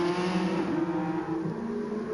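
A hypercar engine at the Nürburgring Nordschleife in a racing video game drones steadily at high revs, a continuous tonal whine with slight pitch shifts, loud and close with no talking over it.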